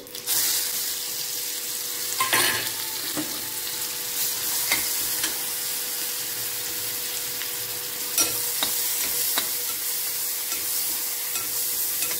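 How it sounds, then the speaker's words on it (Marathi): Ground spice paste sizzles in a pan after cumin seeds, for a drumstick vegetable dish, with steady frying hiss and occasional scraping stir strokes, close and fairly loud, no voices. "आणि हे वाटण चांगलं खमंग परतून घेत आहे।"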